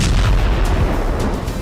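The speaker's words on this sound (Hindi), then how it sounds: "धमाका उस जगह हुआ जहां रूसी सिक्योरिटी एजेंसी FSB का हेडक्वार्टर है।" An explosion at the Russian FSB headquarters, caught as news footage, comes through as a loud, dense boom and roar of blast noise filling the short clip, with no voices.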